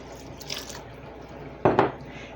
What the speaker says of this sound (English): I'm going to pour my 6 cups of red wine